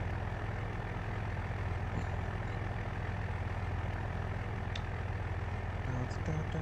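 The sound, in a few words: truck engine running in video game Farming Simulator 25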